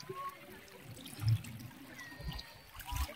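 River current flows at a resort on the Agos River in Infanta, Quezon, a soft trickling and rushing water sound close by, with voices talking over it.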